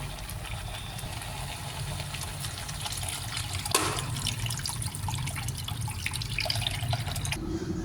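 A steady stream of water running and splashing into a cooking pot, continuous and fairly loud, with a brief clatter midway.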